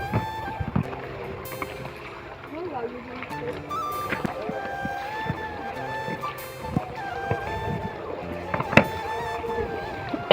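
A boat carries people across open water, its low engine drone and water wash running steadily beneath voices talking nearby, with occasional knocks and bumps.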